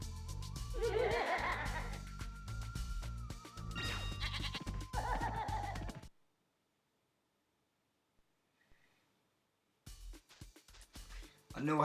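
Goats bleat in a Spyro 2 video game cutscene in the Cloud Temples level, with loud wavering calls over game music and a voice, then a few seconds of near silence before the sound resumes.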